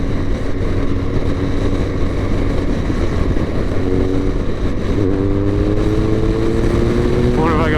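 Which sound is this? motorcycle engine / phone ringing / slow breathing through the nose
motorcycle engine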